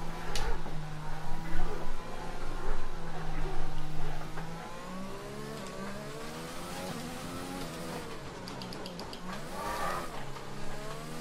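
A Formula 1 car in the F1 2020 game weaving to warm its tyres, engine pitch rising and falling as it revs and shifts, steady and near, with a brief squeal of rubber.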